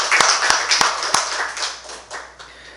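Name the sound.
applause welcoming church members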